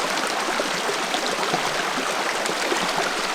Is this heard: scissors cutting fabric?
no